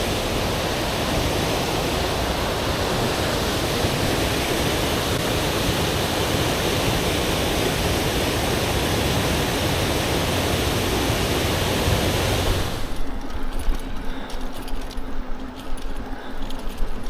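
Rushing river water at a glacial pothole in the Pemigewasset River, a loud, dense, continuous roar that cuts off abruptly and leaves a quieter mix of distant wind and faint rustling.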